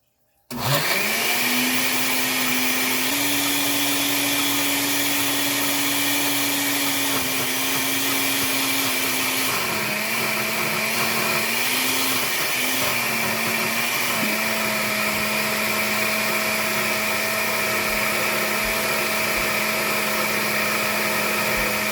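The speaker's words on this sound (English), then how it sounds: "And we're going to blend this up until it's smooth." A kitchen blender whirs loudly and continuously, pureeing homemade cottage cheese with a splash of cream for chocolate chip cookie dough; the motor pitch dips and shifts slightly as the mixture thickens, running steadily for about twenty seconds without talk.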